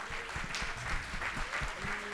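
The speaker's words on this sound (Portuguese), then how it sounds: "Peço uma salva de palmas para toda a equipe da Feira do Livro." Audience applause for a book fair team at a literary event: a brief burst of dense, steady clapping from a room full of people, with faint voices mixed in.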